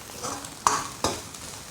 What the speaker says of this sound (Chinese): 下锅炒一下